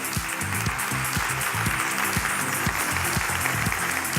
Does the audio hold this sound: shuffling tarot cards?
no